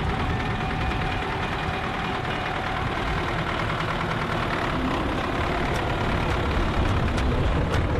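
A vintage tractor engine runs steadily at an outdoor vintage tractor show, a continuous, close, loud mechanical rumble with a faint knocking texture that holds even throughout, with no talk over it.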